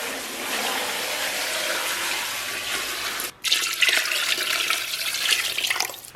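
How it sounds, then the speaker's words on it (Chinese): Water pours into a cooking pot for braising beef hooves, a loud, continuous rushing gush with a brief break partway through before the flow resumes strongly. "然后咱们给锅里边稍微来点水"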